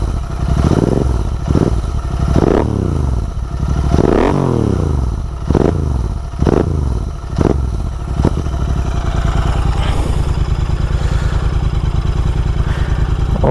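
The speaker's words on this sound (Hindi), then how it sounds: "स्मॉल सा पॉप आता है जब ये रेव डाउन होते हैं इसमें" A Royal Enfield Interceptor 650 twin revs up and down repeatedly, its exhaust crackling and popping as each rev falls, then settles into a steady loud idle, close to the bike.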